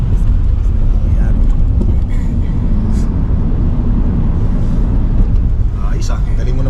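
A car is driven on the road in Edmonton, Alberta, Canada, heard from inside as a steady loud low road rumble and engine drone. Talk runs over it.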